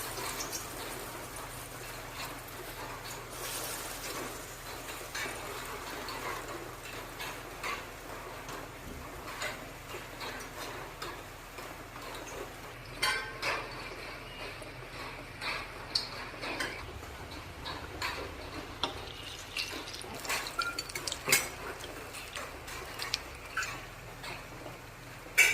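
Matar dal bora, lentil fritters dropped into hot oil, giving a soft, steady crackle and patter of small pops that runs throughout at low volume, with no talking.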